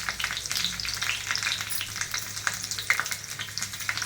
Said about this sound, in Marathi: इथे मी 2-4 लसणाच्या पाकळ्या टाकणार आहे. कढीपत्ता टाकूया.